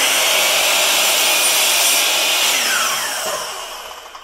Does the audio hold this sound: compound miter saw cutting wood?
yes